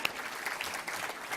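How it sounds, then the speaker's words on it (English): Audience applause at a conference event, a continuous crowd of hands clapping, moderately loud and steady, with no talk over it. "We can clap for that."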